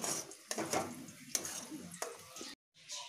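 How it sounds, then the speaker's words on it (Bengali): A spoon stirs spice paste in a pan for chicken biryani, scraping and tapping against the pan in short strokes while someone talks over it. "দেখুন আমি নেড়ে নেড়ে এটাকে শুকিয়ে নেব।"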